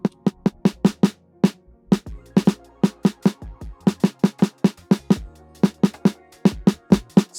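Snare drum hits from a drum loop preset repeat in a steady, punchy pattern, loud and alone, with sharp attacks and short decays.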